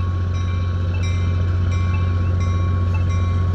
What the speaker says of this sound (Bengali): ট্রেনটি এখন ছাড়বে